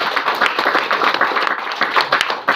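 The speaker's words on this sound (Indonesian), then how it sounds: "Mari kita berikan aplaus" Applause from an audience at the closing ceremony of a tourism village management training in Manokwari, a burst of dense, close clapping that carries on throughout with slight swells.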